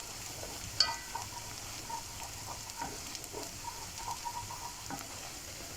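Onion frying in a pan for a sweet-and-sour macaroni sauce, a soft steady sizzle with occasional light clicks and stirring scrapes, fairly quiet and close.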